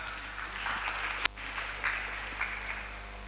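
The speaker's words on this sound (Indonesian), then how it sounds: "Beri aplaus untuk Mas Sulaiman." An audience at a village family-planning program event applauds Mas Sulaiman with scattered, fairly faint clapping over a steady hum, punctuated by one sharp click.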